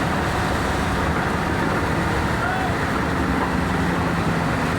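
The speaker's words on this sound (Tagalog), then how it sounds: "Iiri talaga yan na makina." Engine running near full throttle, a loud continuous rumbling drone with heavy low-end noise and steady wind-like roar, no breaks or pauses, with faint voices underneath.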